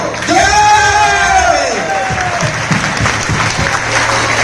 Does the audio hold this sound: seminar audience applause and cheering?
yes